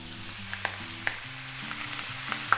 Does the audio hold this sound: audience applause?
no